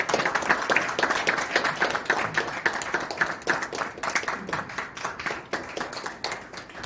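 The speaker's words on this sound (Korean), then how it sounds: "박수로 부탁드립니다" A seated audience claps to welcome the chairman of a plastics company to the stage at a CEO lecture event; dense, fairly close hand claps form an uneven, rippling applause that stays steady for several seconds.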